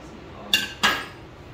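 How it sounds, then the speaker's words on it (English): Two sharp clinks of dishes and cutlery at a home kitchen table, a quick pair close together about a third of a second apart, near and fairly loud over quiet room tone. "Yes, there's some dishes here too"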